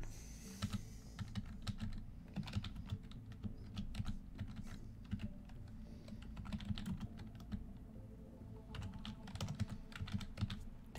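Steady typing on a computer keyboard, close rapid clicks and key thuds in uneven bursts over a low constant hum, no talking.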